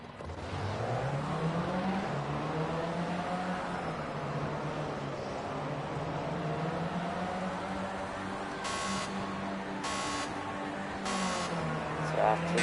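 Formula C race cars start at the Red Bull Ring in Austria in Project Cars 2, their engines a steady droning whine that rises and falls slightly in pitch, with a few short mechanical buzzes near the end. A commentator talks throughout.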